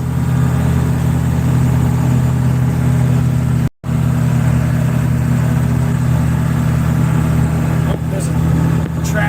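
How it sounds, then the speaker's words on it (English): A tractor drives down a road, a steady mid-pitched engine drone running throughout with a brief dropout partway, heard from inside a moving vehicle. "there's a tractor going down the road"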